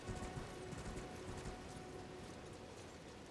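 Horse hooves clopping at a steady trot in Elden Ring, a busy mechanical clatter over dense, constant game noise with no talking.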